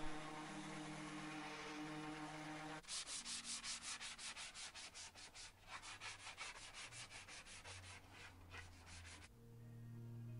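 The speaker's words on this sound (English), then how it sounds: "I just need to finish it off with a sanding block." Rhythmic back-and-forth scraping of a sanding block on wood, steady strokes for several seconds between quieter moments, close and clear.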